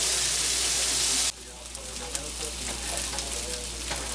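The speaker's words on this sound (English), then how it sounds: "we simmered the onions a little bit, or sauteed them in some butter here" Onions and then mushrooms saute in butter in a cast iron pan, making a steady close hiss and sizzle that softens after the first second.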